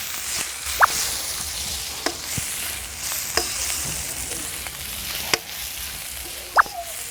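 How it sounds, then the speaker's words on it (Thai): Skewered shellfish dry-roasting in a pan, a constant hiss of sizzling with occasional sharp pops and scrapes of stirring, close up, no talking. "เราก็ต้องคั่วให้มันนะครับ หอมกลุ่นนะครับ"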